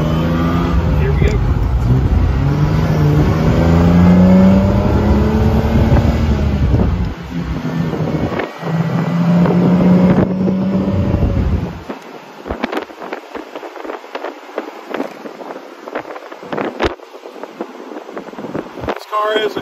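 A 1967 Austin Healey 3000 Mk III with factory overdrive drives along, its engine rumbling loudly under wind buffeting for about twelve seconds before quieting; someone talks throughout.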